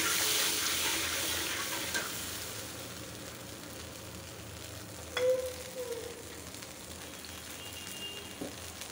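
Ginger, garlic and a little onion paste frying in a pan, a steady soft sizzle with occasional light stirring scrapes and a brief clatter midway, no voices.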